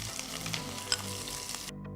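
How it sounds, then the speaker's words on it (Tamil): Hot oil sizzles steadily with sharp little pops of mustard seeds crackling through it, then the spluttering cuts off abruptly near the end. "1/2 டீஸ்பூன் கடுகு போடுங்க. கடுகு வெடிக்க ஆரம்பித்ததும்"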